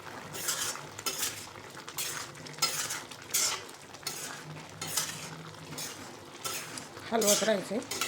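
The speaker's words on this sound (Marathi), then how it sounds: "हलवत राहायचे." A spoon stirs thick jaggery mango preserve syrup in a pan, with repeated scraping strokes and a soft sizzle throughout, and a voice briefly heard near the end.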